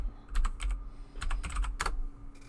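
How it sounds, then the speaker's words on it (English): Computer keyboard keys clatter in quick, uneven bursts of typing, close and fairly crisp, with short pauses between clusters of keystrokes. "My typing is so slow."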